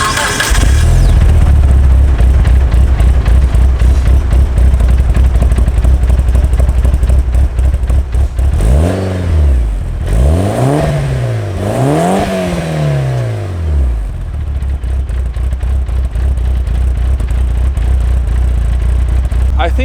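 A German rally car with big cams and an HKS exhaust idles with a steady low rumble, then revs several times in rising and falling sweeps before settling back to idle. The engine is loud and close.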